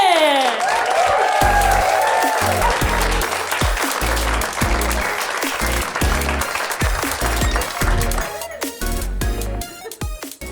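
A stand-up comedy audience applauds and cheers as the first act is welcomed, the clapping largely buried under loud walk-on music with a heavy thumping beat that fades toward the end.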